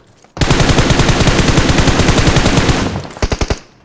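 Rapid full-auto P90 gunfire in PUBG Mobile, a loud continuous burst lasting about two and a half seconds, followed by a few separate trailing shots as it cuts off.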